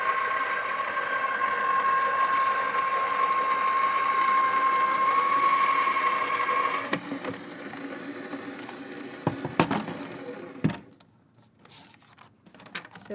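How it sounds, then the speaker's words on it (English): A die cutting machine runs steadily as it cuts pieces from paper card, giving a continuous mechanical whir with a high tone for several seconds, then stopping. Scattered clicks and handling knocks follow as the pieces are pulled free. "you've got 4 pieces all cut out with 1 pass of the die cutting machine"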